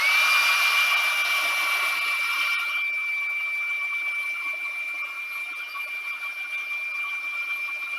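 A hair dryer blows on wet gesso on a mixed media weaving, giving a steady close whir with a thin high whine that holds throughout and eases slightly in loudness toward the end.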